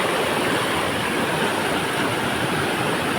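Rushing, high-pressure water pours during heavy rain at a crab-catching spot, a steady, loud, unbroken roar of broadband noise with no pauses and no voices.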